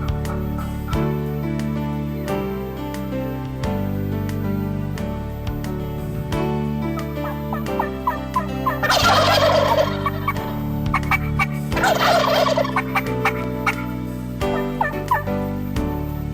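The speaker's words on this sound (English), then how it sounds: "Sounds like lots of gobblers on the way" Wild turkey gobblers in spring woods sound off with two loud, rattling gobble bursts that overlap, nearby, over a steady low background.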